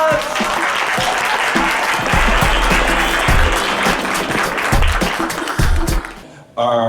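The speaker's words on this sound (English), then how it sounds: "Round of applause." A large crowd applauds loudly and steadily, with a few cheers and shouts mixed in, before the clapping cuts off abruptly at the end.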